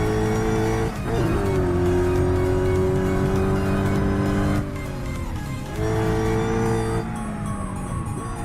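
Chrysler 300 Hellcat V8 in Assetto Corsa, a loud sustained engine roar holding steady revs, dipping briefly between gear changes and climbing again, with faint tire noise.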